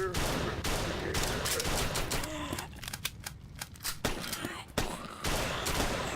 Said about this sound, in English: the shotgun was deliberately shooting that limper right here over the walkers